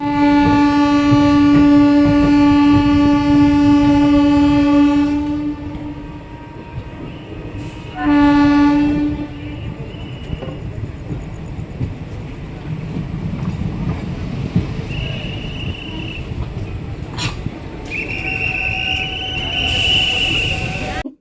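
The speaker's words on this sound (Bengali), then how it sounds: "এই রাত্রে ট্রেন যাওয়া মানে ভীষণ একটা ভয় লাগে" A passenger train runs at night with doors and windows shut, heard from inside the carriage: a loud, sustained horn blast, then a second brief one, over constant rumbling wheel and track noise, with later squealing tones and faint background voices.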